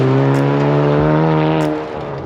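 A car running loud and close at an autocross event, its engine holding a steady droning pitch before the sound eases off toward the end.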